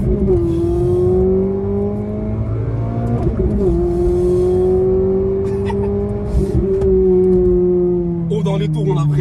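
Renault Clio RS with its F4R four-cylinder engine and a loud Cobra exhaust, droning strongly from up close with the pitch climbing and dropping through gear changes, with brief talk over it.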